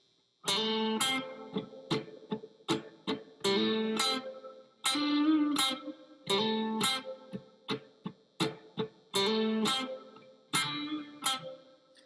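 Slow, choppy distorted electric guitar rhythm: short chord stabs separated by muted gaps, played alone and up close.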